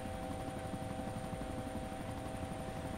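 Helicopter in the video game Arma 2, heard from inside the cabin as a steady, loud rotor drone with a constant engine whine and rhythmic thumping, unchanging across the short stretch.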